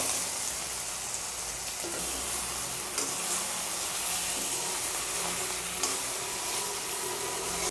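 Taro root sautés in hot oil in a pan for sepankilangu poriyal, a continuous dense sizzle with occasional soft stirring scrapes, close and steady throughout.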